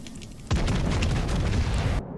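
Battleship guns, including a Bismarck's, firing in the naval game World of Warships Legends, one heavy deep boom that breaks out suddenly and rumbles on loudly for about a second and a half before cutting off, with no talking.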